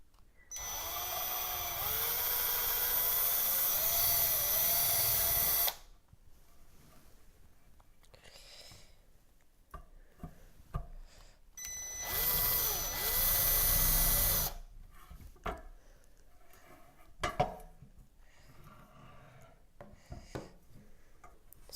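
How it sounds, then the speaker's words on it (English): A power drill fitted with a number 23 bit bores through material during rover body assembly, whining loudly with steady spin-up tones in two long bursts separated by quieter handling noises and clicks. "Now I'm going to drill."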